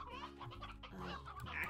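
A rooster in the game Slime Rancher clucks in a quick run of short throaty clucks, close and fairly loud, alone.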